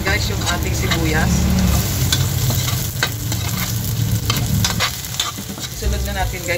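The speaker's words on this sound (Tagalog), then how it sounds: "At mag-i-start na tayo sa ating paggigisa." Garlic and onion sauté in hot oil in a pan for a Filipino Ilocano pork igado, giving a loud, steady sizzle broken by repeated scraping stirs throughout.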